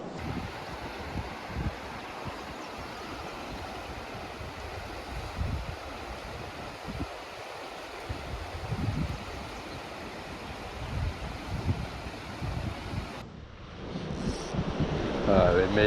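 The Cache La Poudre River in Colorado rushes past in a broad, steady wash of flowing water, close and continuous, roughened by gusts of wind across the microphone toward the end.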